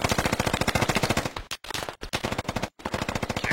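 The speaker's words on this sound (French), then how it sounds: "il commence à y avoir des impacts de balles" Rapid automatic gunfire with bullet impacts in the military shooter Squad, loud and close, rattling in fast bursts separated by two brief silent gaps.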